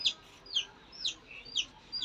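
Chickens cluck in a steady rhythm, about five short calls spaced evenly, faint over quiet background hiss.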